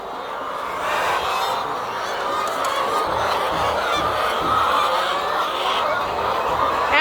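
A dense flock of chickens on a poultry farm in Ghana fills the air with continuous overlapping clucks and chatter, close and busy throughout.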